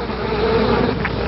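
Animated flies buzz in a steady, dense drone that holds loud and close throughout, with no talk.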